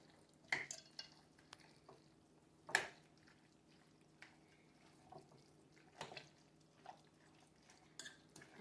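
A spoon stirring chicken pot pie filling in a pot, with scattered clinks and scrapes against the metal, quiet and irregular, in a home kitchen.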